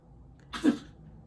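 A single sharp sneeze bursts out once against quiet background, brief and fairly close, with a breathy onset and a fuller voiced peak.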